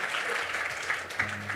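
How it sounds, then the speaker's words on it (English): Audience applause at a Devcon SEA conference classroom session rises in a brief, steady patter of clapping, with a faint voice underneath. "Let's give Isaac a big round of applause"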